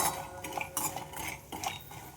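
Sandge lentil dumplings being stirred and roasted in a pan, with a utensil scraping and clinking against the metal in a few irregular strokes, close and fairly quiet.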